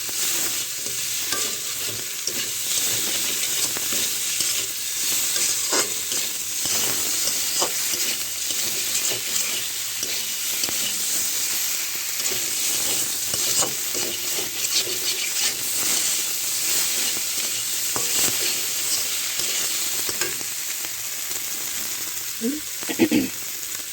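Kashi fish, seasoned with dry chili powder, fries steadily in a pan, giving a continuous dense sizzle with scattered crackles and occasional scraping stir sounds, close and fairly loud throughout, with no talking.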